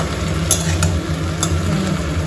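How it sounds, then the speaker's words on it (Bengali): Okra sizzles steadily in a pan with a soft crackle, and a few brief scrapes of a utensil stirring at intervals. "ওই একটু ভেন্ডি ভাজা করে দিচ্ছি"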